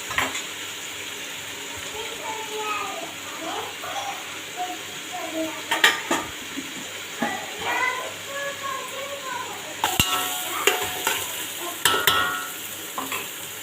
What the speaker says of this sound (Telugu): దీంట్లోనే కొంచెం పుదీనా వేసేసి దీన్ని బాగా ఫ్రై చేసుకోవాలి